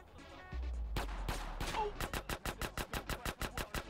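Rapid automatic gunfire from a machine pistol in GTA: San Andreas, a fast regular burst of about a dozen loud shots after a deep rumbling start and a few single blasts, game sound with no talking.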